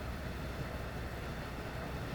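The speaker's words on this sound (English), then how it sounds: "We can hear the train." A train runs on the rails as a steady, broadband rumble and hiss that fills the whole moment evenly, fairly distant, with no talk over it.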